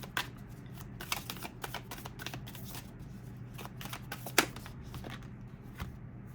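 Tarot cards are shuffled and drawn by hand at close range, giving quick riffling flutters and crisp snaps of card stock that come in uneven bursts against a quiet room.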